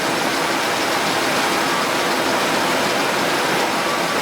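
An outboard boat engine runs steadily, a dense, loud, unbroken mechanical roar with no change in pitch or pace, heard alone without talk.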